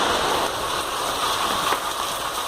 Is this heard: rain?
yes